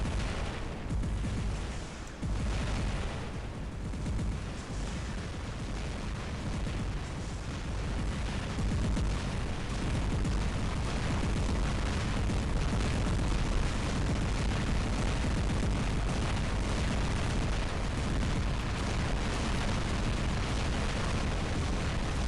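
In the War Robots game, aphid missiles fire and burst in a dense, continuous barrage of booms and blasts, loud and unbroken throughout.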